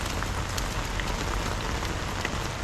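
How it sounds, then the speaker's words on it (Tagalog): Heavy rain pours during a fishing trip, a dense, loud, unbroken hiss of drops pounding the surroundings close by. "Naligo Tayo sa pong ulan."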